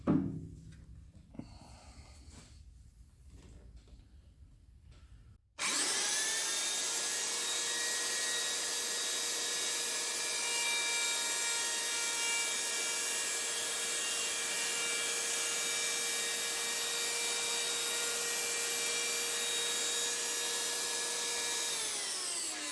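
A grinder works the slide ways of a Dean Smith & Grace lathe, a steady high-pitched whine with ringing tones running continuously after a brief quieter stretch of workshop noise at the start.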